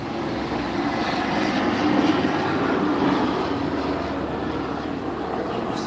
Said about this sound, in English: So, plane flying over. I'm in a flight path.